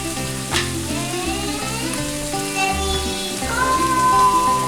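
Chicken fajita and corn mixture sizzling in a pan, a loud, steady, close crackle and hiss with occasional stirring, over a faint tonal background.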